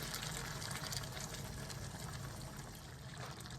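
Coconut milk poured into a pot of Guyanese-style hassar (armored catfish) curry, making a steady, soft liquid pour that continues unbroken for several seconds.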